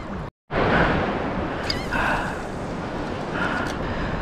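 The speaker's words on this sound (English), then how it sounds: "How many waves are crashing over?" Ocean surf breaking while wade fishing off Galveston, Texas: a loud, continuous rushing wash of waves close by, briefly cut out near the start, with a few faint voices in the background.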